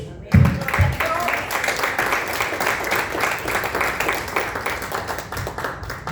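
A church congregation breaks into sustained applause, with dense overlapping claps and cheering that begin abruptly and continue evenly at a loud level for several seconds.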